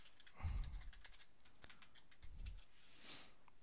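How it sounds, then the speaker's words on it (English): Quick, faint keystrokes on a computer keyboard, a short burst of light clicks with a couple of slightly heavier taps, recorded quietly with no voices. "So we want to click people. And we want to type recruitment."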